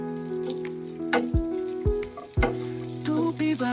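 Garlic for pork adobo sizzles as it hits a hot wok, a steady loud fry with sharp bursts of clatter as it is stirred, with no talking.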